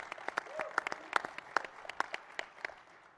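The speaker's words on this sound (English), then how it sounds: "I love that they clap more for Speaker Renner than you, President Corcoran." Scattered applause from a conference audience at a conservative political forum in Florida, a thin set of separate, fairly distant claps with uneven rhythm that fades after a few seconds.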